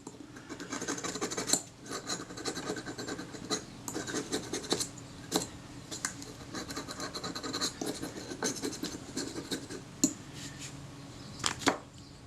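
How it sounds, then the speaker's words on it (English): Corrosion being scraped off parts of a Kodak Retina IIIS camera, with a close, steady run of rasping, scratchy strokes, uneven in rhythm and broken by a few sharper clicks, with no talking. "that's enough scraping on those parts, I think"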